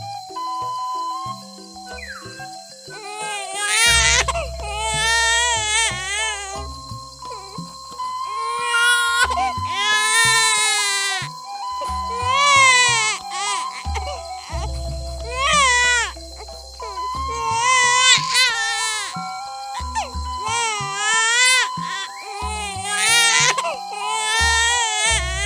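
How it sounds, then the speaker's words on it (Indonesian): A baby cries in repeated wailing bursts through the clip, set over a steady musical background in a school retelling of the Nyi Roro Kidul legend. "Saat sedang bersantai, Prabu samar mendengar tangisan bayi."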